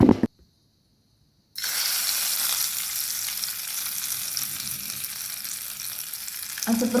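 After a short silence, hot oil tempered with crackled mustard seeds and curry leaves is poured into green chilli chutney, bursting into a loud, steady sizzle that hisses on for several seconds.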